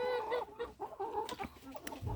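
Several Faverolles chickens cluck and chatter close by in short, overlapping calls, busy and uneven, with no voices speaking.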